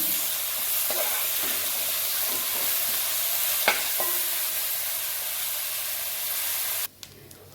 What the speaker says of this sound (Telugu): అల్లం వెల్లుల్లి పేస్ట్ 2 స్పూన్లు వేసుకొని బాగా వేయించుకుందాం.